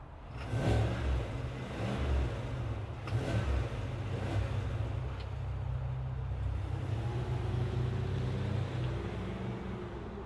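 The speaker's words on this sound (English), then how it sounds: "let's fire up this V8 and hear what it sounds like" The V8 engine of a 2025 Chevrolet Suburban RST catches with a sharp start and settles into a steady, deep idle rumble, with a couple of brief revs early on, heard from close by with no talking.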